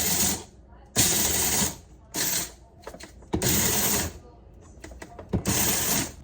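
Coffee beans being ground in a grinder at home, heard as several loud bursts of rough mechanical whirring a second or so long, broken by pauses with small clicks and rattles.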